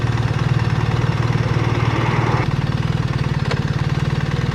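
A BMW R1300GS Adventure motorcycle engine drones steadily at close range as it pulls away uphill, its pitch and load shifting partway through as it labors on.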